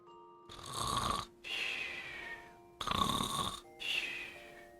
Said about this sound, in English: Snoring away.